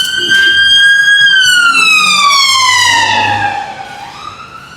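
A loud police siren wails on a UK street, one long rising and falling tone that sweeps up and then slides down as the vehicle passes and fades, with traffic rumbling underneath and no talking.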